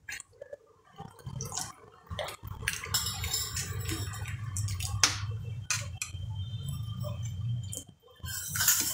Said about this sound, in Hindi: अब हमें जितना इसमें आपको पानी डालना है